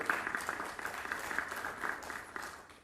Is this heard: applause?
yes